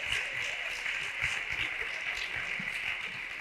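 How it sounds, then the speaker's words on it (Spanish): An audience at a live talk applauds, a steady wash of clapping from many hands that holds for a few seconds at moderate volume, with faint voices underneath. "Esto es lo único que habéis aplaudido"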